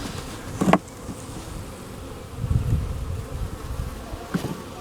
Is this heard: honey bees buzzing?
yes